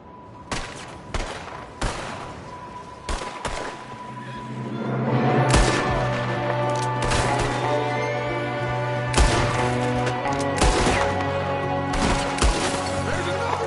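Gunfire in the video game Red Dead Redemption II: sharp single gunshots ring out one at a time near the start, then keep cracking over a swelling orchestral score with sustained tones.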